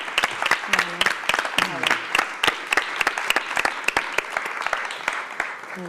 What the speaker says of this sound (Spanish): un aplauso porque me parece fantástico